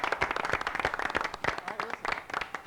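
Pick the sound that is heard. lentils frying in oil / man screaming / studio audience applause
studio audience applause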